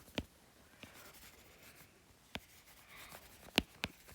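Notes are written by hand on a medical study sheet, with faint, sparse pen scratches and a few sharp taps against a quiet room.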